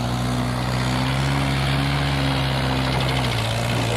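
A tractor pulling a trolley runs its engine close by, a loud, steady low rumble with a throbbing, vibrating hum that holds even throughout.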